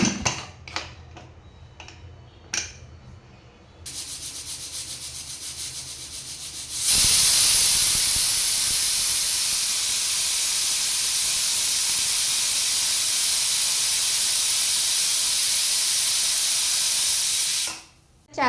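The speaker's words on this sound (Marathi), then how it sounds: "आता कुकरचं झाकण लावून कुकरच्या 4-5 शिट्ट्या काढून घेणार आहे" A pressure cooker cooking chicken gravy lets off a loud, steady hiss of steam for about ten seconds after a few soft knocks and clinks, then cuts off abruptly.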